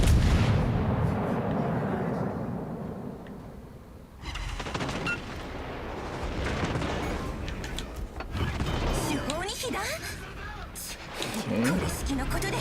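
Warship guns firing in World of Warships: Legends: heavy booming salvos and rolling blasts repeat through a loud naval battle, with a person talking over the gunfire.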